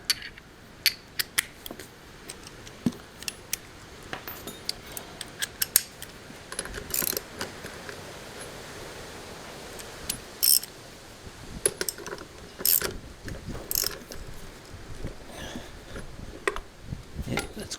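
A spanner clicks in short ratcheting bursts on the chain adjuster of a Chinese quad bike, with sharp metallic ticks and clanks scattered irregularly across a quiet workshop background.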